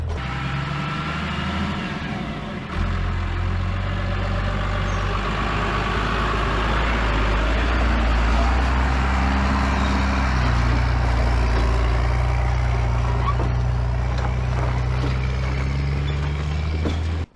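A heavy truck engine idles and rumbles close by, steady and loud with a low drone, while a 1971 Mustang is pulled forward onto it for weight placement; a brief engine lull comes early before the rumble resumes.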